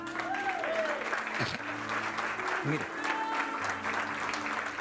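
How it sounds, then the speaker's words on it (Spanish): A Spanish-speaking church congregation applauding at a Sunday service, sustained clapping from many people with sustained tones and a few brief spoken words and voices over it. "Ahora den un aplauso al Señor."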